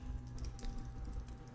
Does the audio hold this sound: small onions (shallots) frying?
no